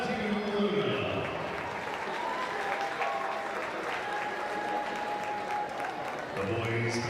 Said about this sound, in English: Big round of applause for Matthew Luna.